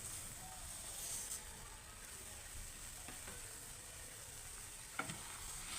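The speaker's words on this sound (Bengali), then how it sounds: "চিনিটা দিয়ে বেশ ভালো করে নেড়ে নিতে হবে।" Sugar being stirred in a pan while making amla candy, a faint steady scraping and sizzling hiss with a couple of sharp clicks from the spoon, heard alone at low volume.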